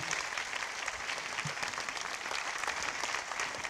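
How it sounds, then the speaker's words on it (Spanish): Lecture audience gives sustained applause as a physics talk ends, an even dense clapping that continues for the full stretch. "Vamos a despedirle con un fortísimo aplauso."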